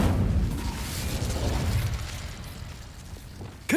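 An Incendio fire spell cast in Hogwarts Legacy bursts with a loud, whooshing blast of flame that rumbles and slowly fades over several seconds.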